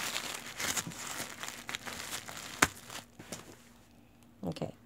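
Tape and plastic package wrapping crinkling and tearing as a parcel is opened up close, with steady rustling broken by a few sharp rips and a brief louder crackle near the end.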